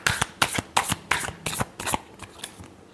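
Tarot cards are shuffled by hand in a quick riffling rhythm, about eight crisp bursts in three seconds, close and clear with no talking.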